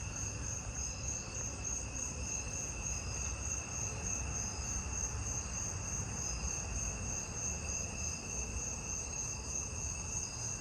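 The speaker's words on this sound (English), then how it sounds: "there's some jumping bush crickets in it too now, I think" Jumping bush crickets and narrow-winged tree crickets calling together from a tree at night, a dense steady chorus of continuous high trilling that fills the scene evenly throughout, with no voices.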